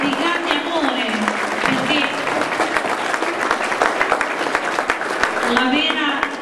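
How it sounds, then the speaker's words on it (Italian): Audience applause at an Italian stage show of Snow White and the Seven Dwarfs, steady, loud clapping that runs through the whole stretch while someone talks over it at the start and the end. "vorrei che voi veramente faceste un grandissimo applauso a queste persone di grande calore e di grande amore"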